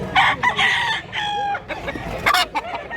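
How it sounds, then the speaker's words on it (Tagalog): A white rooster about two years old crows nearby in repeated loud, strained calls, with clucking and a few other fowl sounds around it, at a market in Mantalungon, Cebu. "Nasa tayo puti nga manok"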